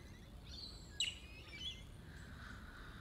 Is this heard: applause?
no